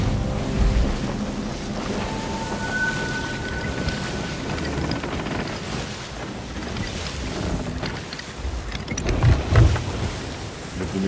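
A storm in the Sea of Thieves video game: heavy rain pours over rolling sea waves, with deep thunder rumbling and a louder thunderclap near the end, all dense and continuous with no talking.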